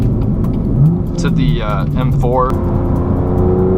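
A BMW M2 F87 with a DCT gearbox accelerating, engine drone in the cabin with rising and falling pitch sweeps at the shifts, while a person talks over it.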